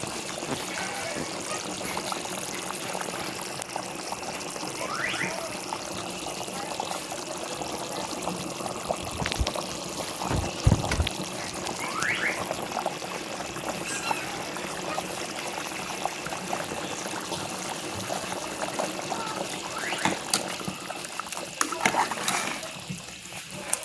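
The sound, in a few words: chicken curry boiling in pot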